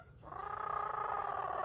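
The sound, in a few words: parrot imitating a cat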